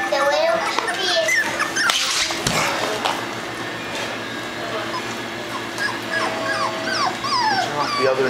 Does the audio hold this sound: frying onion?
no